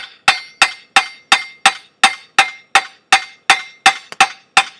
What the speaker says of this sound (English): Tap on the end, it just sometimes leaves bad marks on your hammer.